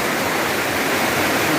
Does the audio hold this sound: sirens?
no